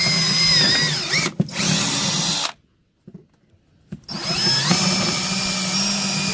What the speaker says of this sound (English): Now drill the last two holes.